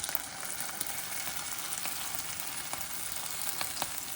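Beans tipped into a pan with chorizo and onions fry with a steady, bright crackling sizzle, close and fairly quiet, with small pops scattered throughout and no talking.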